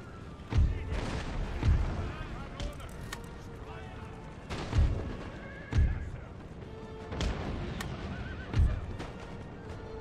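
Cavalry horses neigh and whinny repeatedly in an Empire: Total War battle as Prussia, several loud whinnies spaced every second or two over a low rumble of battle noise and distant gunfire.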